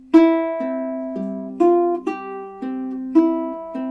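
A clear, bright ukulele melody fingerpicked note by note, with a bass thumb line underneath, played at a relaxed, even pace up close.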